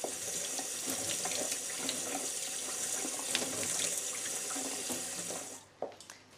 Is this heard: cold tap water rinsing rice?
yes